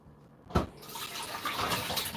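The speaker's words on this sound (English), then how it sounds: "Wash it off." Chopped onions are washed under running tap water, a sudden splash and then a steady, close rush of water in a home kitchen.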